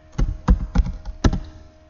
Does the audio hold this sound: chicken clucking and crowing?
no